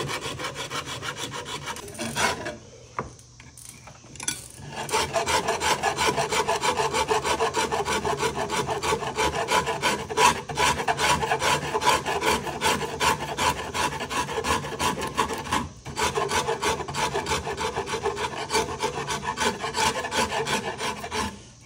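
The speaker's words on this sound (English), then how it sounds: "It's that wood file I was telling you about. It's a Nicholson." A Nicholson wood file rasps steadily across wood in long repeated strokes, loud and close, after a brief quieter pause near the start; no voices.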